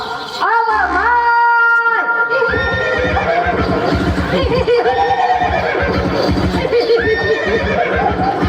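A horse whinnies loudly during a Zadipatti folk comedy play, giving a long, wavering neigh and then further shorter neighs over a dense, continuous bed of layered voices or music.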